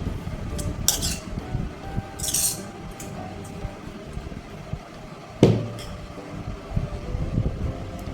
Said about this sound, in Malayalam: ഇനി ഇതിലേക്ക് നമുക്ക് നമ്മുടെ മിക്സ് വെച്ച് കൊടുക്കാം ഇതുപോലെ ഇളക്കിയെടുക്കണം